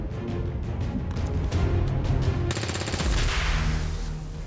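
Rapid bursts of automatic gunfire from the video game XCOM 2, loud and close, rattling in quick volleys with a sharper, brighter burst partway through.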